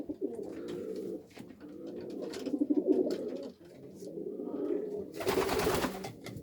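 Homing pigeons coo repeatedly at a loft, their soft throaty calls rolling in overlapping phrases at close range, broken by a brief burst of broadband rustling near the end.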